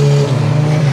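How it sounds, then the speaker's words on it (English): Motorbikes going past on a road beside a walking trail at RSPB Marshside, a steady loud engine drone that holds close throughout, rising slightly toward the end. "wait for them bikes to go"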